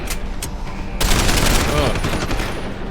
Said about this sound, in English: Oh, I'm blind firing.